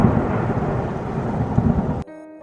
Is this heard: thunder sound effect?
yes